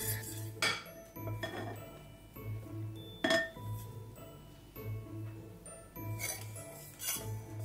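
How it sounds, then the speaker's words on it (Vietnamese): Balloon whisk beating egg batter, whipped egg whites being folded into yolks for a Japanese cheesecake, in a bowl: steady rhythmic clinking and scraping of wire against the bowl in repeated bursts, close and moderately loud. "Đầu tiên có thể dùng phới lồng ngoáy thoải mái một chút cho đều"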